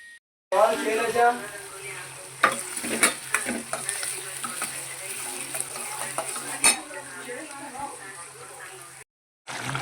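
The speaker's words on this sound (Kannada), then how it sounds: "ಇಲ್ಲಿ ಒಗ್ಗರಣೆ ಮಾಡಕತ್ತೀನಿ ನೋಡ್ರಿ ಮಂಡಾಳ ಒಗ್ಗರಣೆ" Spices tempering in hot oil for mandakki oggarane crackle and sizzle steadily at close range, with occasional clinks of a spoon against the pan and a voice talking over the cooking.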